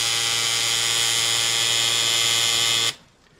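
A tattoo machine runs with a steady, loud electric buzz and hum for about three seconds, then cuts off abruptly into near silence.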